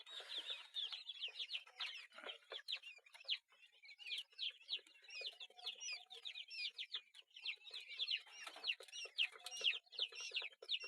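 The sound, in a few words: quail chicks chirping on a duck farm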